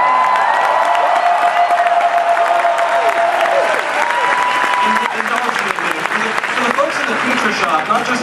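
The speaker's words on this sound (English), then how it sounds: "Not just applause and cheering." Audience at the Star Wars: The Force Awakens panel with JJ Abrams erupts in sustained applause and cheering, dense clapping with whoops and shouts filling a large hall, loud and continuous, with some voices rising above.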